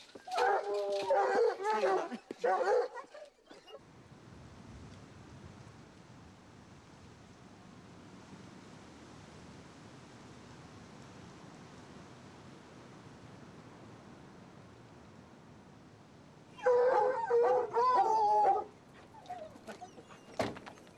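Wild boar hunting dogs whimper and bark in brief bursts at the start and again near the end, with a long stretch of windy outdoor hush between them in a rural hunting area.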